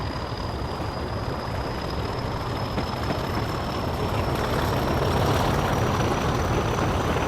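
A heavy diesel locomotive engine in a train simulator game drones loudly and steadily while revving up a gradient, a low rumbling roar with a faint whine above it and no clear pauses.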